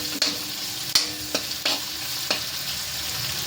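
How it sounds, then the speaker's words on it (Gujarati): Loud sizzling of finely chopped onion sautéing in a pan, broken by several sharp scrapes and clacks as a spatula stirs at irregular intervals. "આ એક નંગ કાંદો છે તે મેં ઝીણો સમારેલો છે તે અંદર એડ કરી દઈશ, ને આને હું સાતળી લઈશ"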